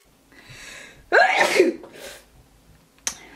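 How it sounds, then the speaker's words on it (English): A single loud sneeze, preceded by a short inhaling breath, followed by a faint exhale and a brief click. "I think it might be that tandoori that made me sneeze."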